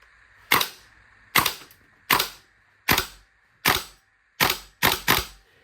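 A Well Pro M7 gas blowback airsoft rifle fires seven sharp, loud single shots at a steady, slightly uneven pace, each crack followed by quiet, with the last two shots close together.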